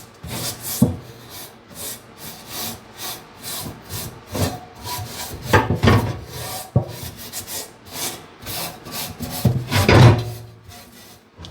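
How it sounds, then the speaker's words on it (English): Steel wool lightly skimming across grill grates after cooking chicken gives repeated rough scrubbing strokes in an uneven back-and-forth rhythm, close and fairly loud with no talking. "I'm going to use this steel wool, but use it very lightly just to skim over the top."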